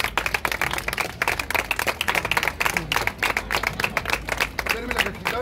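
Street show audience clapping in a sharp, steady rhythm, loud and close, with individual hand claps clearly distinct throughout.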